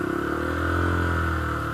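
A Honda CB125F motorcycle pulls away with the clutch let out under steady throttle around 4,000 rpm, its engine holding a constant, close buzzing drone throughout.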